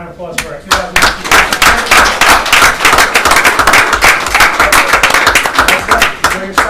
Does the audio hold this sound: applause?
yes